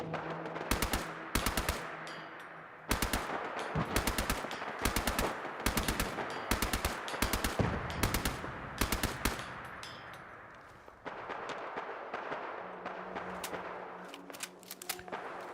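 Video game turrets fire long bursts of rapid machine-gun shots, loud and continuous with short pauses and overlapping volleys through the stretch, no talking.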